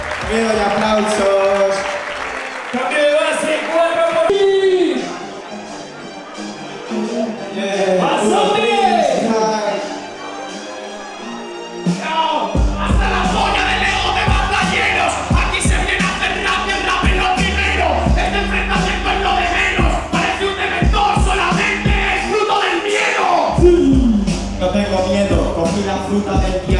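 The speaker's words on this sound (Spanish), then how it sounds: "¡Ahora ruido para Jaico! ¡Miedo y aplausos!" Crowd at a Spanish freestyle rap battle cheering and applauding, loud and sustained, mixed with voices and a pounding beat that kicks in partway through.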